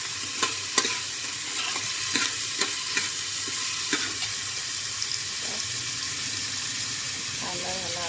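Onion frying lightly in oil for a goat mutton dish, a steady sizzle across the whole stretch with sharp clicks of a spoon stirring and scraping the pan.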